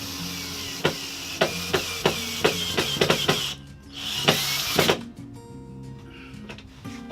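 A power drill driving screws into plumbing pipe clips, with a rapid run of sharp ratcheting clicks followed by a couple of short whirring bursts, close and moderately loud.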